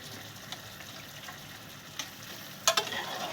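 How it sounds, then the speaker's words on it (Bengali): Mutton sizzles and frys with ground spice paste in a pan, a steady close hiss broken by a few scraping stirs, with no talking. "এই মাংসটা দিয়ে কষিয়ে নেবো অল্প করে।"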